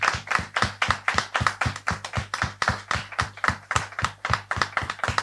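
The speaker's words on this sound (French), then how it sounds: "On peut le recevoir avec des applaudissements plus nombreux" Sparse clapping greets a guest, a steady run of distinct close hand claps, roughly two or three per second, from what sounds like a small group, with no voices over it.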